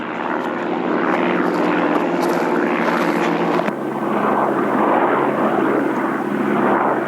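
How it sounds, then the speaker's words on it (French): Propeller airplanes fly overhead, a loud, steady engine drone that shifts in tone partway through as one passes, with no speech. "On se croirait pendant la guerre, là, il y a des avions partout."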